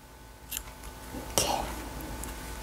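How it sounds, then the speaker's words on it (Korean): Scissors snip the fuzzy pipe-cleaner trim on a handmade Christmas dog doll keychain. Two faint, sharp snips are separated by a pause over a quiet room with a low steady hum. "여기 털이 있는 부분을 좀 잘라주세요. 가위로."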